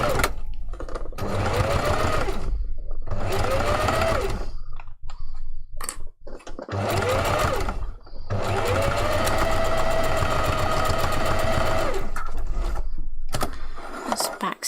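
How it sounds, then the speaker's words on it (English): A sewing machine runs in several steady bursts of stitching with brief pauses between them, stitching a seam on fursuit hand paw fabric, close and loud with mechanical clicking. "Stitch at the start and the end, and you'll have a wee seam sewn."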